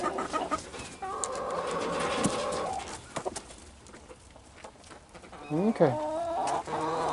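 Chickens cluck and murmur close by, with a rising squawk near the end; a person says a brief word.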